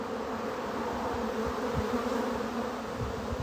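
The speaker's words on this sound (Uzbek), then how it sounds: "Arilar ham mazza qilib ishlayapti." Honey bees buzz steadily around hives during a spring honey harvest near Samarkand, a dense, continuous close-up drone with no talk.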